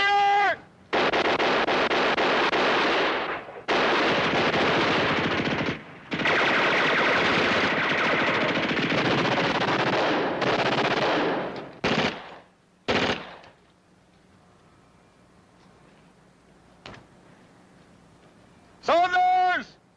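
Machine gun fire in a 1963 World War II battle scene, long loud sustained bursts broken by brief pauses, then a few isolated shots before dying away, with voices shouting at the end.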